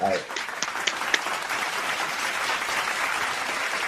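Steady applause from a large crowd, sustained and fairly loud throughout, with a few sharper claps standing out early on.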